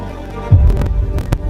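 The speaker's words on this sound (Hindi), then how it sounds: "मेरे दिल की धड़कनें बहुत बहुत तेज हो रही हैं।" A fast heartbeat sound effect used in a game show: low, muffled thumps pulse over a constant deep hum and background rumble, with no one speaking.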